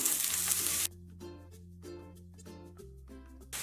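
Three medium sliced onions drop into a cast iron pan for kizhi biriyani, giving a loud, hissing sizzle for under a second before it fades to a faint simmer beneath low background hum.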